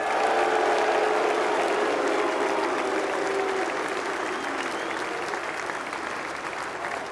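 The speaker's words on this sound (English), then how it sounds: "I would like them now to stand individually to take your applause" Sustained applause from a large audience at the Ryder Cup opening ceremony, Team Europe versus Team USA, steady and dense clapping throughout that tapers slightly toward the end.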